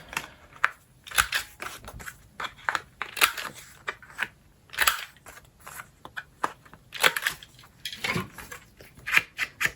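A paper library card gets its corners rounded with a cutter, giving a series of sharp, close snipping and clicking sounds in irregular bursts with short pauses between them.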